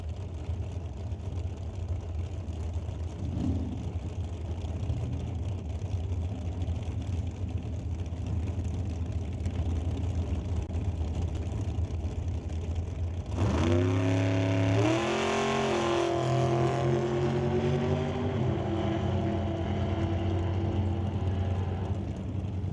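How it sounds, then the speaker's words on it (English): At a drag race, a dragster and a 1994 Beretta idle with a low rumble, then launch with a loud, rising roar and climbing revs through the gears before fading into a steady drone. "Bringing up Aaron Young in the dragster, dialed in with a 511, taking on Scott Robinson in the 94 Beretta with the 491."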